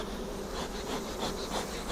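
Honeybees buzzing steadily around an open hive during a varroa mite treatment, a faint continuous drone with no talk.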